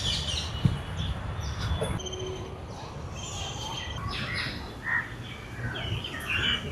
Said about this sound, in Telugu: ఈ గ్రీనరీ, బర్డ్ సౌండ్స్,